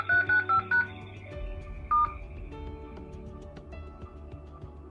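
Telephone keypad DTMF tones dialing into an audio conference from a home office: four quick clear beeps in a row, then a single tone, over quiet background noise.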